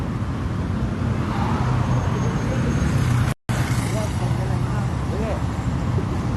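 Steady roar of cars and e-hailing vehicles rolling past on the LDP highway during a police roadside inspection, loud and continuous with tire hiss and engine drone, broken by one brief cut.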